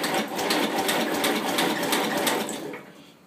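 Small engine on a Sears Custom 10 lawn tractor being cranked with the choke on: a steady, fast churning whir from the starter for about three seconds before it winds down.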